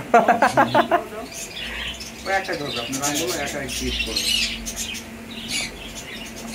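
Pet birds in a large home aviary squawking and chirping in short bursts, with someone talking over them and some wing flapping.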